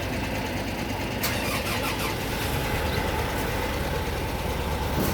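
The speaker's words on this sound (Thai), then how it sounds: "ติดเครื่องนะครับ" A new Komatsu PC130-10MO excavator engine cranks and fires, then settles into a loud, steady diesel rumble that holds close and continuous with no talk over it.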